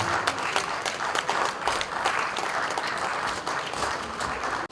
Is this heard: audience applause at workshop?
yes